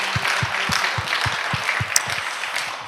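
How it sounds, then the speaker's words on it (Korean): Congregation applause at a church revival meeting, with dense clapping and a rhythmic beat of low thumps running through it, sustained for about three seconds. "우리 하나님께 우리 박수로 영광 올리겠습니다"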